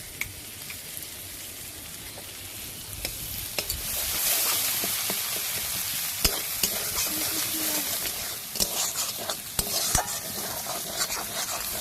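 Chopped tomato, coriander powder and spices sizzle and fry in butter in a pan, with a spoon stirring and scraping in steady close strokes and occasional sharp clinks against the metal.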